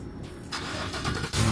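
A GMC Yukon starts by remote starter: a brief crank, then the engine catches and settles into a low idle, heard from close by.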